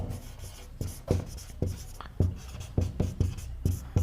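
Pen or marker writing by hand on a board or paper during a classroom lesson, a series of distinct scratchy strokes and taps in an irregular rhythm, close and fairly loud, with no speech.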